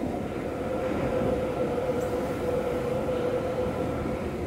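A Sapporo Municipal Subway Namboku Line train runs steadily along straight track, a constant low rumble with a faint whine riding on top, close and even throughout.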